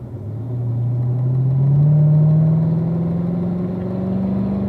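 A car on a race track accelerates hard out of a corner, its engine note climbing steadily in pitch as it pulls through the gears, loud and close with no talk.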